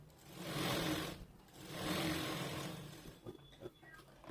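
Domestic sewing machine stitching along the edge of a blouse lining: two steady whirring runs of rapid needle stitching, faint and close, then short stops and small clicks as the fabric is adjusted.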